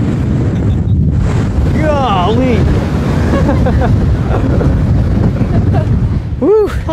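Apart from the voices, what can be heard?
strong wind at a cliff edge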